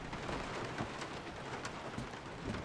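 Steady rain falls throughout in the survival horror game Resident Evil 7, a dense, even hiss of drops with faint low rumbles and no voices.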